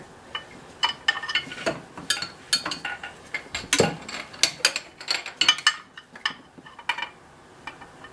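Metallic clinks and taps of a wrench working a tight bolt on a vehicle fuel system, an irregular run of close, sharp little knocks and scrapes with no talk.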